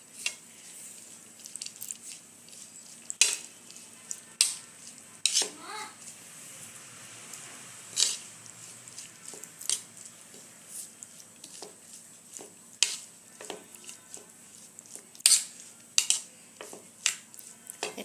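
Spiced potato mixture seasoned with salt and chilli powder is stirred in a pan, with a faint steady sizzle under repeated scraping and clinking of a utensil against the pan at an uneven rhythm, close and fairly quiet.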